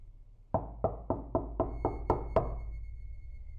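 Eight firm knocks on a house door, evenly spaced and fairly loud, each a sharp hollow thud with a short ring, landing in a steady rhythm before fading to quiet.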